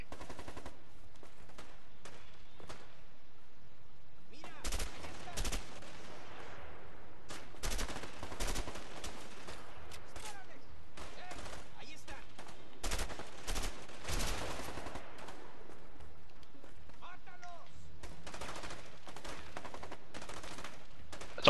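Video-game gunfire from A Way Out, with repeated bursts of automatic shots and single cracks spread across the stretch, loud and close, separated by quieter game ambience and no talk.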